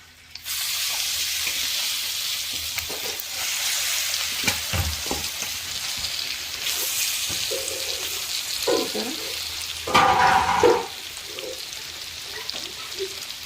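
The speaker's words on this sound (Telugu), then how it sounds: "ఇందులో టమాటా పచ్చడి వేసేద్దాము" Tomato pickle tipped into hot tempering in a pan, giving a loud, steady sizzle and frying crackle with occasional stirring scrapes, and a brief louder burst near the end.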